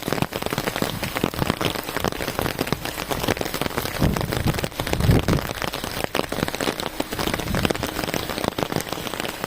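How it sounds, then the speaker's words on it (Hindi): Heavy rain pours down steadily, a dense, loud hiss of drops drumming on surfaces throughout. "ये देखिए कितनी तेज़ आ गई है भाई बारिश।"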